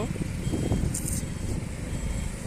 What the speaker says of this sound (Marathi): इथे खूप ट्रॅफिक आहे